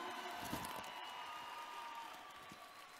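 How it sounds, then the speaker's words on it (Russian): Concert audience applauding steadily throughout, a dense wash of clapping with faint crowd cheering in the hall, loud and sustained without pause. "Аплодисменты не смолкают,"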